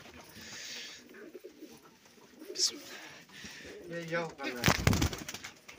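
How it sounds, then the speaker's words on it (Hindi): Pigeons coo inside a pet shop in Bandipora, Kashmir, with black and white pairs in cages; a few soft coos rise near the end over background murmur and brief voices. "ये वाला कबूतर माशाल्लाह बहुत अच्छा है"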